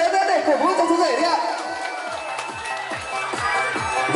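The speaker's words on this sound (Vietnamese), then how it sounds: "mời một tràng pháo tay thật lớn lên để cổ vũ cho chú rể đi ạ" Wedding guests at a ceremony cheer and clap for the groom, a lively crowd din with whoops and rhythmic claps close by, steady throughout.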